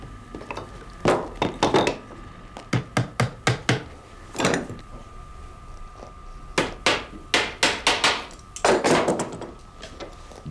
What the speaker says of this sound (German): Anfangs- und Endbefestigungshaften werden zunächst provisorisch auf die Oberseite des Hamenspans aufgenagelt.